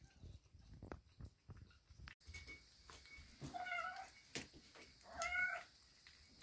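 A kitten meows several times during its first feeding, the calls rising over a background of shuffling and handling noises, with two clearer meows standing out toward the middle and end.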